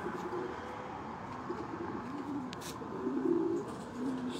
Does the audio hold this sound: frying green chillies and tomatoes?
no